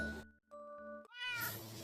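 A domestic cat meows a couple of times, close and clear, with a longer rising mew toward the end.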